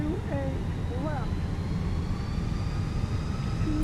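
Airliner jet engines throttling up in Microsoft Flight Simulator on the Fenix aircraft, a loud steady broadband roar with a faint rising whine, and brief voice sounds early on.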